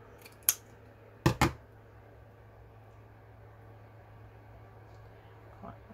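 Scissors snip material at a craft table: one sharp cut, then a quick double snip a moment later, crisp and close against a quiet, faintly humming room.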